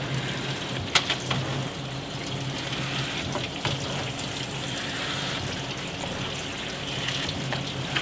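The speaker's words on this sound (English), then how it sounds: "just rinse the barrels a little bit." Water splashes and runs steadily while the barrels of an MFI HZ-40 centrifugal barrel finisher are rinsed, a continuous close hiss with a few brief clunks and knocks, and no talking.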